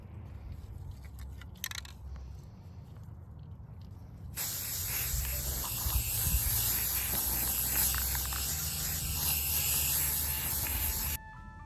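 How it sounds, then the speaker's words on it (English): An aerosol can of white spray paint hisses in a long continuous spray over Christmas decorations outdoors, loud and close, after a few seconds of quiet handling noises, then cuts off abruptly. "we're gonna take these outside, spray paint them white"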